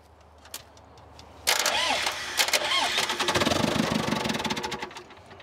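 A telehandler's diesel engine cranks, catches and settles into a rough, knocking idle, loud and close, with a person talking over it.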